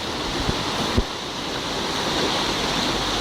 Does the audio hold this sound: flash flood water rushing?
yes